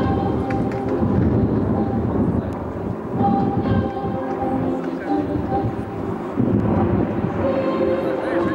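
Aerobatic display jets from a Russian team, flying at an air show with smoke systems, fill the air with a steady, loud, rumbling roar that swells and fades slightly throughout, with an announcer's voice partly beneath it.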